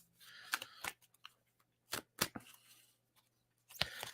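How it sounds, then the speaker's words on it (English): A deck of cards being shuffled: a few quick, crisp riffling bursts separated by short pauses, fairly quiet and close, with no voices. "I better shuffle this deck"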